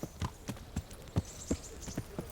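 Horse hooves clip-clopping in the video game Kingdom Come Deliverance, a steady rhythmic string of soft hoof strikes at a walking pace, fairly faint against a constant background hiss.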